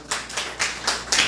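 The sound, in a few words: hands clapping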